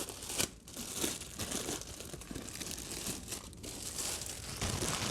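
Plastic wrap crinkles and crumples off a headphone case, a busy close-up rustle of irregular crackles and tearing that runs continuously without any talking.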